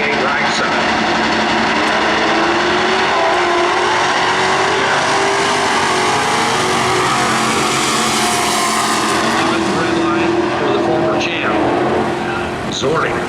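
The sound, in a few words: dirt track race engines, pickup truck and Camaro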